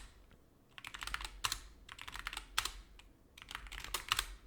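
Fingers type on a computer keyboard in quick, uneven bursts of clicking with short pauses between, close and clear, as commands are entered to configure a Cisco router for IP telephony.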